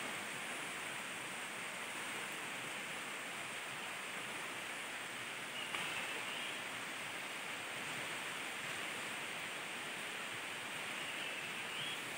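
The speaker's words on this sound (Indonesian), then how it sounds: "Hari hujan teman." Morning rain falls on a forest in Indonesia as an even, faint hiss that holds steady throughout, with no voices.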